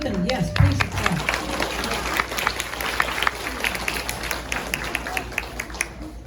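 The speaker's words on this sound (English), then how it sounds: "So, yes, please do applaud." An audience claps in a loose patter of scattered hand claps that swells early and then continues unevenly, with a voice speaking over it at the start.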